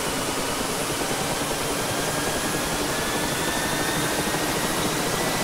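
The rotors of a Mil Mi-8 MTV helicopter in the DCS game spool up as a steady, dense turbine whine and roar that holds unbroken and loud throughout, with faint rising tones.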